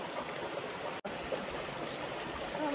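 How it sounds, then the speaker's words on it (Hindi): Steady rushing of a village stream where people are bathing, a continuous close wash of flowing, splashing water with no talk. "देखो नहा रहा है ऐसे करके, पानी के अंदर"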